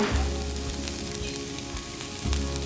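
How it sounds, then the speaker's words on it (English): Olive oil sizzling in a hot pan while cooking stir fried rice, a close, continuous crackling fry with a couple of low thumps from the pan, no voices. "I'm gonna go ahead and add some more olive oil"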